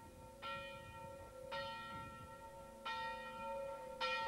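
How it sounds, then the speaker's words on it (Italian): Church bells of a large bell tower in Condove ring a festive peal, four distinct bell strikes spaced about a second apart, each with a bright ringing decay, heard at moderate distance with no talking. "Allora, qualche secondo ancora e partono le campane."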